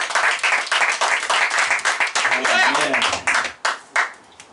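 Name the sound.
audience applause and clapping at a comedy roast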